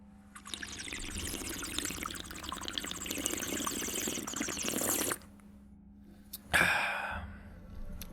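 A person imitates bubbling bong water with the mouth, making a long, gurgling, bubbly stream for several seconds, pausing, then a shorter wet burst that tapers off.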